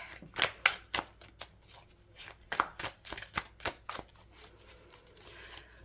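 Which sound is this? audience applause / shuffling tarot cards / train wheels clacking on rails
shuffling tarot cards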